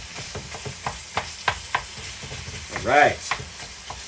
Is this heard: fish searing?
yes